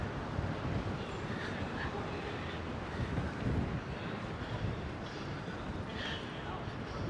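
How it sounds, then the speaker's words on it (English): Steady outdoor wind gusting by the Hudson River in New York City on a warm November evening, a continuous broadband rush with buffeting on the microphone, with no talking. "A little windy out here today."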